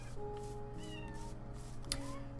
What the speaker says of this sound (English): I got a kitty cat on my lap, poking up, wanting to be in the video